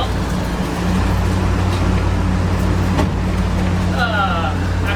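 A steady, low engine rumble idles continuously with a constant droning hum, close by, with faint chirps briefly overhead near the end.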